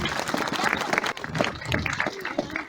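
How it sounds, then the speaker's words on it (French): An audience applauds performers in a dense, close burst of clapping, mixed with crowd noise and scattered voices. "Mais un tonnerre d'applaudissements également."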